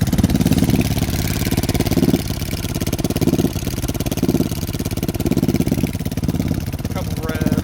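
Lifan KP Mini 300 4-valve ZS175FMN motorcycle engine running steadily near the microphone, with a few blips of throttle over a continuous idle rumble.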